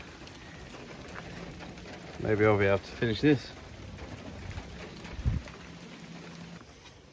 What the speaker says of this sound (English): If it ever stops raining